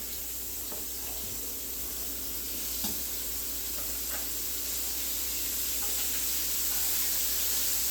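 Scallions and red onion fry in a pan with a constant, fairly quiet hiss that is broadband and close, interrupted by occasional soft clicks and utensil taps, with no voices.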